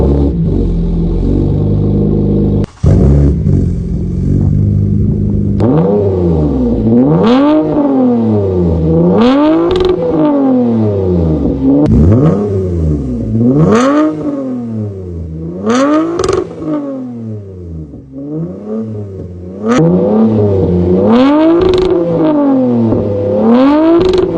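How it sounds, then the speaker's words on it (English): A 2023 Toyota Camry XSE V6 with the muffler and both resonators deleted, revved repeatedly after a cold start: a loud, raspy engine climbing and falling in a regular series of about a dozen close blips with no talk. "So that's how the car sounds without the exhaust and both resonators."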